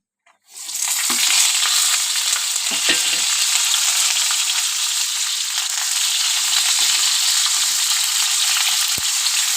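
Pointed gourd and potatoes frying in a hot pan: a loud, continuous close sizzle begins abruptly and holds steady, broken by scraping stirs, with no voices.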